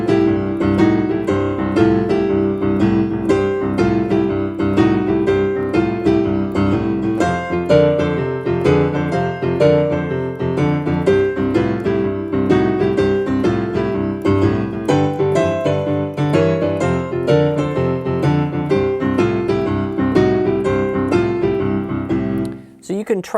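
Blues piano left hand playing a steady, rhythmic repeating pattern of paired notes in a 12 bar progression, loud and close, alone without any talking, for over twenty seconds.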